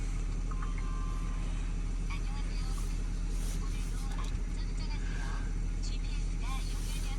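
A Mercedes GLE engine idles steadily after starting, a continuous low rumble holding at an even level throughout, with faint background voices and a lively environment around it.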